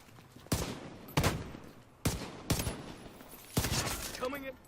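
Five sharp gunfire bursts from the shooting game The Division 2, spaced irregularly about a second apart, each a loud crack with a short decaying tail.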